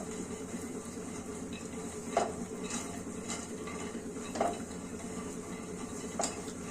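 Peanuts stirred in shallow oil in a pan for a dal dish, a soft continuous sizzle under scraping and occasional metallic clinks of a utensil against the pan, no talking.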